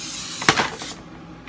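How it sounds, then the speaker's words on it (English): Short burst of Pam cooking spray hissing onto a cookie sheet, a single close spray lasting about half a second before cutting off. "We're gonna spray it a little bit with more Pam."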